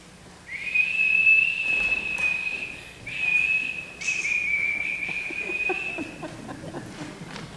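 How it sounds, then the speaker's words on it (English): A shrill, ear-splitting whistle blown in three sustained, wavering blasts, loud and piercing against a quiet background. "Her shrill, ear-splitting whistle sounded out all hours throughout the golden streets"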